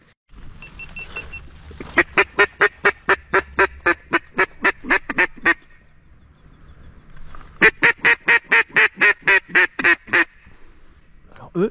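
Four passing ducks quack in two loud rapid bursts of repeated calls at a river's edge during a duck hunt, with a pause between the bursts and faint background rumble.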